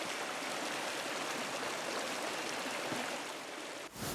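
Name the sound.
waterfall in video game Pentiment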